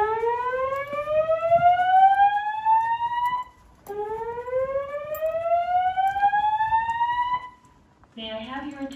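A building fire alarm sounds during an engineering test with loud, repeated rising whoop sweeps, two in a row with a short gap, before a voice begins speaking over a new tone at the end.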